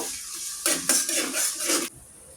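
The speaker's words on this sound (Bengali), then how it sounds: "এটা আমি লাল করে ভেজে নিব" Onions and green chilies frying in oil in a pan, a bright close sizzle swelling as a spatula stirs in quick strokes, then dropping back after about two seconds.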